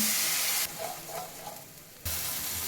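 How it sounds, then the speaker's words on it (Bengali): Spice paste with ginger for a fish curry with cauliflower, beans and carrot being sautéed in hot oil, a loud bright hiss and sizzle that surges when a splash of liquid hits the pan, close and without talk. "মশলার যে পেস্ট বানিয়ে রেখেছিলাম সেটা দিয়ে ভালোভাবে কষিয়ে নেব।"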